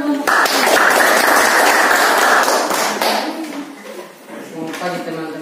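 A university classroom bursts into loud, dense clapping for a peer-teaching group about to present in Kupang. The clapping lasts about three seconds and then tapers off as a presenter begins speaking.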